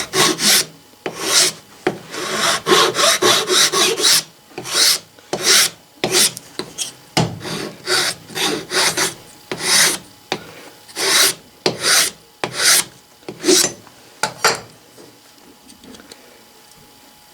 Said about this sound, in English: this rasp is much sharper right here where it didn't get used much